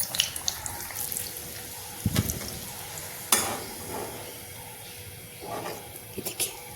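Stuffed chana dal puri fries in hot oil with a quiet, bubbling sizzle broken by sporadic sharp crackles and pops, fairly close and low in level.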